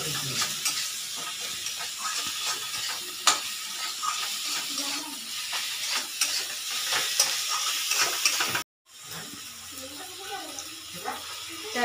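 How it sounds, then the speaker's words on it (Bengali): Spices such as ground coriander and cumin being stirred in a frying pan, a continuous loud sizzle and hiss with scraping strokes, close up, and a brief dropout near the end. "এবার হালকা এই পাশ থেকে ওই পাশ একটু নাড়িয়ে নিচ্ছে দিদি"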